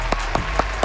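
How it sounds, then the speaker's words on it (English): A lone round of hand claps, four sharp evenly spaced claps in under a second over a low steady hum. "I want to take this time out to give myself a round of applause."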